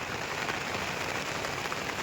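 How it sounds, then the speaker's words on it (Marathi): Steady rain pours outdoors onto paper sheeting and a flimsy shelter, a dense, even wash of drops with no breaks, close and fairly loud throughout. "पाणी आता वरनं पाऊस चालू आहे,"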